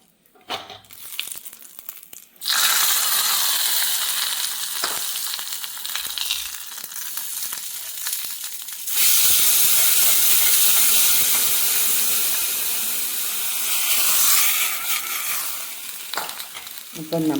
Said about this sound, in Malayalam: കടുകും താളിച്ചു. ഇനി നമുക്ക് ഇതിലേക്ക് ഒഴിച്ചു കൊടുക്കാം.